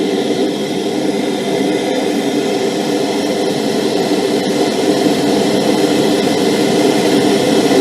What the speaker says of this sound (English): No, map gas torch, sorry. You heat it right up.